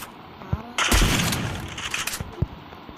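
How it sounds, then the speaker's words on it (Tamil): A landmine in a video game detonates after being shot, a single sharp burst that decays over about a second, with scattered smaller impacts and game noise around it. "ஏல உன் லேண்ட்மின் நான் சுட்டா வெடிச்சிட்டல"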